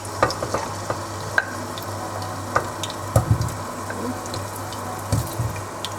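Potatoes fry in hot oil for pilau with a steady close sizzle, broken by scattered sharp pops and clinks as they are stirred, with no talking.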